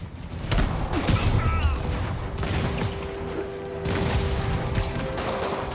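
Enemy gunfire from thugs in Spider-Man on PS4, a dense, loud volley of rapid shots and crashes mixed with game action and a voice talking over it.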